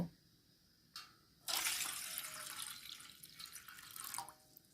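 Water, one and a half cups, pours into a pot set on a gas stove, a steady broadband splash rising after a brief drip and continuing close and fairly loud to the end.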